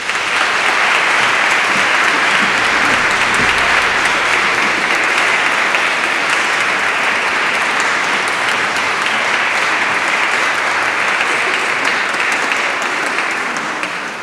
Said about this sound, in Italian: maestro Mauro Visconti, che accogliamo con un applauso.